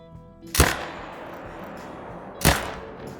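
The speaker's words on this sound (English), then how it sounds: "So I'ma shoot the white first." Two sharp, loud rifle shots about two seconds apart, fired at a white tahr in the hunting game theHunter Call of the Wild. Each shot has a short echoing tail, and no voices are heard.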